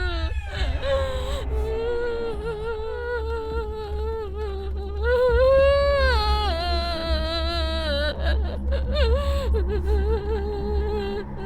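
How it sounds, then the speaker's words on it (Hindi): A woman weeping in a Hindi-dubbed south Indian horror film set in a haunted mansion, long wavering sobs and whimpering wails rising and falling continuously over a low steady background drone, close and prominent. "रोने की आवाज तो सच में आ रही है।"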